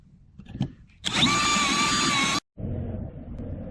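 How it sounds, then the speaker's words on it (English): A power drill bores through a pin on a wringer roller gear: a loud, steady whine for over a second, a brief stop, then a second stretch of lower-pitched drilling, with no talking. "I've taken the executive decision to go ahead and drill it out"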